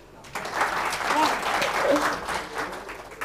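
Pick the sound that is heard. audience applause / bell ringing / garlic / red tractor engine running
audience applause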